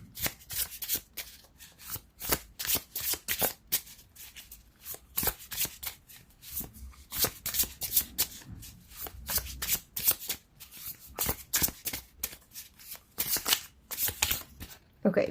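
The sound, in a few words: shuffling tarot cards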